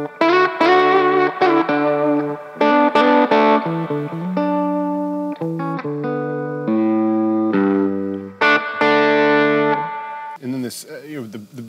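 Electric guitar notes and chords played through effects pedals including a reverb unit, bright and sustained with echoing tails, in short phrases broken by brief gaps.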